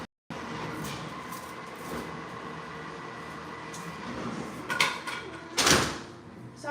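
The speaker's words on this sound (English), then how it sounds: "let me close this other door" A door being closed indoors, with a rolling slide and a couple of thuds toward the end, heard close over steady background noise.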